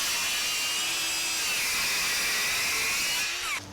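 Dewalt Flexvolt Advantage cordless circular saw cutting MDF, a steady high-pitched blade whine held for several seconds, loud and close, winding down at the end as the cut finishes.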